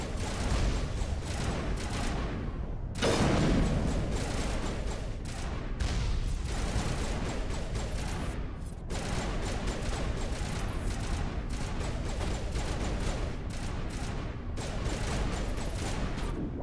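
Gunfire in the Mass Effect video game, with dense, sustained bursts of rapid shots and heavy impacts. One louder blast lands early, and the firefight continues nearly without pause throughout.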